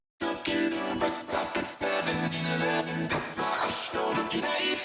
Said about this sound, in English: So I used EQ to scoop out areas I didn't like.